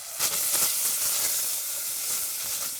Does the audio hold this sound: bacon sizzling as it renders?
yes